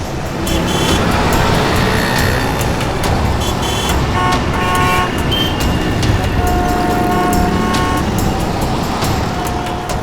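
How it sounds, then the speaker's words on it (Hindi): On a busy city street a car races off amid loud, continuous traffic noise, engine roar blended with passing vehicles and scattered horn toots. "अरे यार ये गाड़ी भगा रहा है।"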